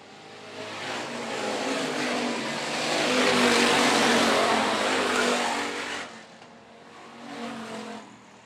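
IMCA Hobby Stock race cars roar past on a dirt track, a dense broadband engine rush swelling loud as the pack passes close, fading sharply, then a smaller second surge as another car goes by.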